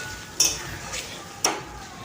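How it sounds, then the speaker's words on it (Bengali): Spice paste being stir-fried in a pan for a Bengali jackfruit and prawn curry: two sharp utensil clinks against the pan over a soft sizzling hiss, close by. "এখন আমি মশলাটা ভালোভাবে কষিয়ে নেব।"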